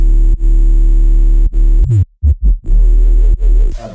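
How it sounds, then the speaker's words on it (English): A loud, already bit-crushed main bass synth drones in long gritty notes with buzzing harmonics, breaking into brief stuttering gaps and pitch slides before ending in a noisy burst. "we have a main bass that's already bit crushed and sound like this."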